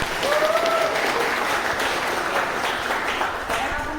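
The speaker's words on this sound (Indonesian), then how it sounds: "Kasih tepuk tangan dong." A room full of people applauding steadily at a talk, a sustained wash of clapping that holds for several seconds without letting up.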